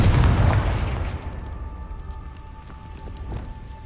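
A Confringo spell in a Harry Potter video game bursts with a loud, deep boom at the start, then decays into a lingering rumble with faint crackles.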